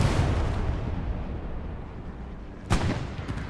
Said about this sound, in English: Proxy Satchel goes off on the point